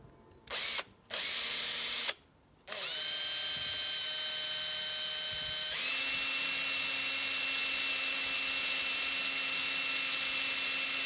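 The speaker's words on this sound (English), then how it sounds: "I'm going to drill in." A power drill drilling into a wooden model railway baseboard starts and stops in short bursts, then runs continuously with a steady high whine that rises in pitch as it bites in.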